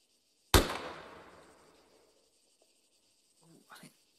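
A single sharp rifle report from an L129A1 sharpshooter rifle in Arma 3, a loud crack with a long fading tail, followed by a few faint small knocks near the end.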